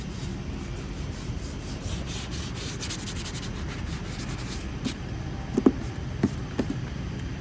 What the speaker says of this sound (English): Just keep cross hatching that, rubbing against it. Just rub it lightly.